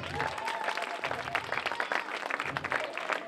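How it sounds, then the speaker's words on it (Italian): Audience at the Mister Clown 2014 event in Falerna claps for the jurors, lively and moderately loud throughout, with uneven rhythm and some crowd noise mixed in. "applauso!"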